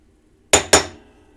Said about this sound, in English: we're gonna have to center punch this baby again too